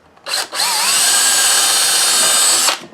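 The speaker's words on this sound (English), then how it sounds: "So I'm going to drill those out right now." Power drill boring holes into the wooden parts of a 12-pound soap mold: a short burst, a brief stop, then one steady loud whine held for about two seconds before cutting off.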